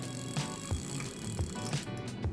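A Daiwa BG 4000 fishing reel's drag whirs with a soft, gritty scraping and regular clicking pulses, repeating every fraction of a second, quiet and close; the braided line is gunky.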